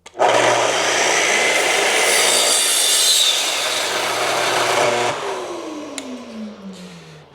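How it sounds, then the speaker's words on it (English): A sliding compound miter saw fitted with a Chopmaster crosscut blade bites into a stubborn board, giving a loud, steady grinding whine for about five seconds before the motor bogs down and winds down with a falling tone. "So now I have the angry board here on my sliding compound miter saw"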